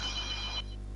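A telephone rings in the Warframe video game, a steady electronic bell tone that sounds for most of the second and then cuts off abruptly, with no talk over it.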